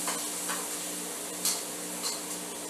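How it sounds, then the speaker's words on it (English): Onions sizzling in a pan while being stirred, a close, steady hissing fry with a few brief utensil scrapes and clinks against the pan, no voices present. "Make sure to stir your onions."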